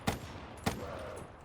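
Gunfire from a Doom map in a first-person shooter video game, two sharp, loud shots about half a second apart, each followed by a brief ringing tail.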